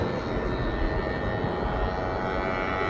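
An aircraft climbing steeply after takeoff from East Midlands Airport, bound for Leipzig, produces a steady, loud jet engine roar that fills the whole stretch without a break, with no talk.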